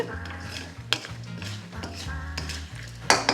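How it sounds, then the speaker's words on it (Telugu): Tempering of garlic and sesame frying in a pan, stirring and frying sounds, utensils scraping and clinking against metal, with a few sharper knocks, over a low steady hum. "సో ఇప్పుడు దీన్ని బాగా వేయించుకోండి"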